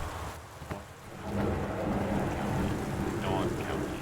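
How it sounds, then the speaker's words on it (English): Heavy rain hisses steadily in the Gone Home game, with a deep roll of thunder swelling midway and lingering as a low rumble beneath the downpour. "Weather Service reports high winds and torrential rain conditions"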